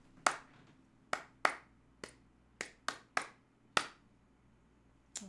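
Hands clap out a short rhythm as a music-test exercise: eight sharp, crisp claps at uneven spacing, close and clear against a quiet room, with no voices.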